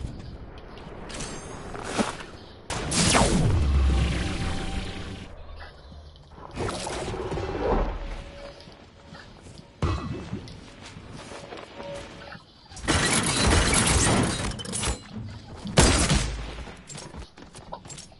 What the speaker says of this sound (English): Oh, I got a heavy shotgun.